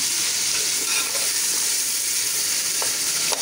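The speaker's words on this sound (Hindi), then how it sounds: "गरम मसाला भी मैंने साथ ही डाल दिया था साबुत, वो भी फ्राई हो रहा है" Whole garam masala and tomatoes fry in a pan for a meat and potato curry, giving a steady, close, continuous sizzle with faint stirring clicks and no voices.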